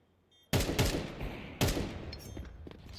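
Two loud, sharp gunshot blasts from a sniper rifle in Counter-Strike 2, about a second apart, each with a ringing tail, heard during a competitive match.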